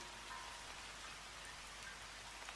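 Steady rain on a rainy morning, an even, dense hiss of drops with no pauses, fairly faint and continuous throughout, with no voices.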